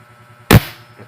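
One loud, abrupt report from an 850 PSI high-pressure PCP air rifle, followed by a brief fading tail and a faint later thump, heard alone against a low background hum.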